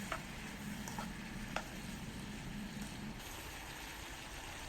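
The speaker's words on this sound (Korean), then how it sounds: "그리고 이 채소들이 절반 정도 익었다 싶을 때까지 볶아주시면 돼요" Potatoes, carrots and tomatoes being stir-fried for curry rice, giving a steady soft sizzle with a few faint clicks of a utensil against the pan throughout.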